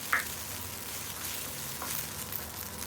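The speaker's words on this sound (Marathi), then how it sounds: "फोडणीला एक छोटा कांदा घेतलाय आणि एक छोटा टोमॅटो आहे आणि आपण परतून काढूया" A small onion and a tomato sautéing in hot oil as a tempering, giving a steady close sizzle and crackle with a faint stir near the start.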